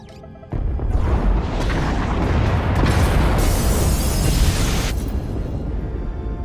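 A massive explosion tears through spacecraft pod bays in Star Wars: The Old Republic, a sudden loud boom followed by a sustained rumbling roar of blast and debris that stays heavy for several seconds before easing slightly.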